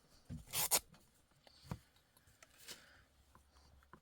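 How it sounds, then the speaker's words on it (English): Scissors snip through a ribbon for junk journal crafting, a quick pair of sharp close cuts followed by softer rustling and handling of the material, quiet and without speech. "I'm going to cut it about here."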